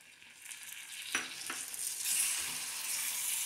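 Okra fry in a pan with tamarind pulp being stirred, a steady soft sizzle with a couple of sharp spoon scrapes against the pan, quiet and close.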